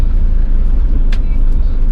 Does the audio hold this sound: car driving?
yes